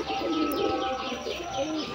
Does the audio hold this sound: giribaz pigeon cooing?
yes